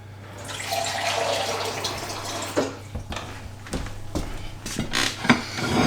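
Water runs from a tap into a measuring jug on a kitchen counter for soap making, a steady close splashing stream with a few clinks of the jug and no talk.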